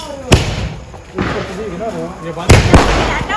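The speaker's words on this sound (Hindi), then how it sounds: "चालू हो गए हमारे पटाखे भी" Firecrackers bursting during Diwali celebrations outdoors, several sharp, loud bangs spaced irregularly, some close together, with excited voices talking and shouting between them.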